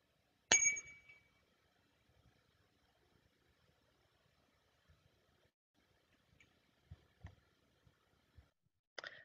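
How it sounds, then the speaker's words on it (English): A single struck morning bell at a church service rings once near the start and then decays into a quiet room, with faint soft knocks and shuffles afterward and another bright strike at the very end. "I invite you now into sacred space and time with the sounding of the morning bell."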